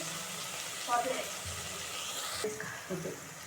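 Curry leaves sizzle in hot oil for curd vada tempering, a steady frying hiss with a brief crackle as they hit the pan, while a voice talks over it.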